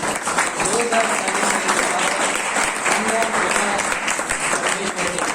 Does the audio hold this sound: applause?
yes